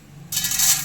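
Dry chana dal lentils tip into a pan of a little oil, giving a sudden bright rattling, sizzling hiss that starts sharply and holds steady, close and fairly loud.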